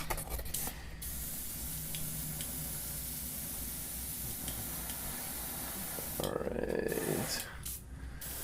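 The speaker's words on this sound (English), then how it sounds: "Airbrush is real struggling right here." An airbrush sprays paint onto cardboard tabletop terrain, working unevenly. A steady close hiss runs throughout, broken by brief pauses near the start and a louder, harsher burst toward the end.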